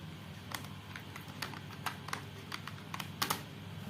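Someone types on a computer keyboard while writing in MS Word, crisp individual keystrokes tapping at an uneven pace, close and moderately quiet over a faint steady hum.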